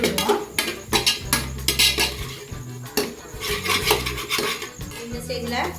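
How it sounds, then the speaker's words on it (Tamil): Cabbage, red capsicum and other vegetables being stirred in a pan, with repeated metallic scraping and clattering of a spoon against the pan in an uneven rhythm, close and fairly loud. "எல்லாமே நல்லா கிண்டிக்கிட்டு விடுவோம்."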